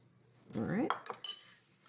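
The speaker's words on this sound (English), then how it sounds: "Give that a quick stir" A metal utensil clinks and scrapes against a bowl in a brief quick stir of vegetable recipe ingredients, close and alone, with a couple of sharp clinks after a short scraping swirl.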